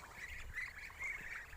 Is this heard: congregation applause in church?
no